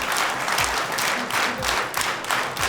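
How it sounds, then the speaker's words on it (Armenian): Audience applause for contestant Anush at a Got Talent Armenia semifinal, a loud, dense wash of clapping from a large crowd, steady throughout. "եւս մեկ անգամ Անուշին ծափարենք"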